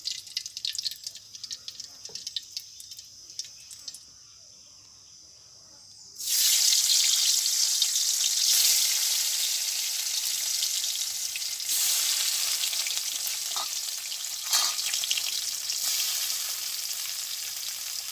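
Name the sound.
fish frying in oil in a pan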